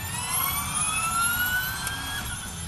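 Formula E electric race cars at the 2015 London race pass by with a high, rising electric whine that sweeps upward over a steady low rumble, sustained and fairly loud across the whole stretch.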